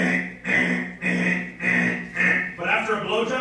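A comedian's voice imitates an alarm clock with a run of about six evenly spaced, buzzing beeps, loud and close.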